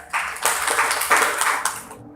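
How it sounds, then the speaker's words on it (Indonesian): Students in a classroom clap for two classmates during a school lesson, a short, close burst of scattered handclaps lasting about two seconds before it stops abruptly. "Beri tepuk tangan untuk kedua teman kalian."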